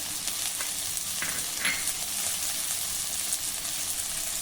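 Chopped onion, green chillies, garlic and ginger fry over medium heat in a pan, giving a steady, close hiss and sizzle throughout with faint stirring scrapes.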